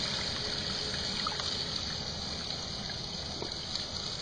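Water runs steadily through a gold prospecting fluid bed loaded with material, a constant close rushing wash with no talk and no breaks.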